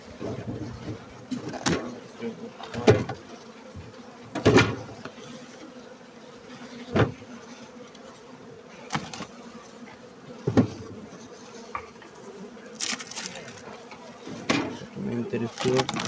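Bees hum steadily around an open beehive during an autumn check of honey and brood stores, a low continuous drone punctuated by sharp knocks and handling noises, with someone talking over it.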